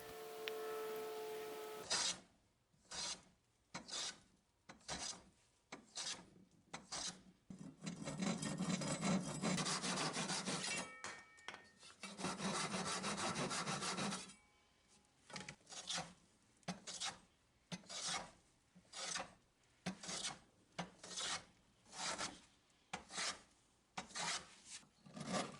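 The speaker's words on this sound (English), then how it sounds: "clean it up with some chisels and a hand plane" Chisels and a hand plane shape a wooden mallet by hand, giving a long run of repeated rasping, scraping strokes in short regular bursts with a couple of longer continuous shaving passes, close and fairly quiet.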